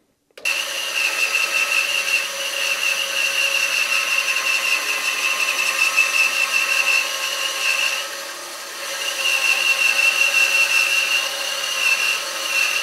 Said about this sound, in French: ruban va me permettre de découper mon bois